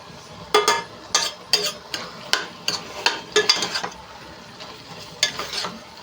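Freshly pounded ginger garlic paste frying in a pan for prawn curry, with a series of crackling, sputtering bursts and stirring scrapes coming in irregular clusters, close and fairly loud.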